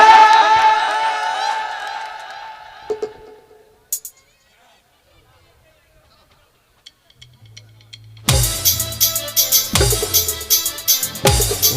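Clapping and cheers rise from a crowd at a live folk music stage show, bursting in after a singer's voice and a quiet pause, loud and close with rhythmic accents.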